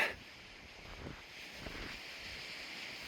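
Wind on the Hummocks Trail at Mount Saint Helens, Washington, roaring steadily across the microphone in a broad rushing wash with a few stronger gusts. No one speaks.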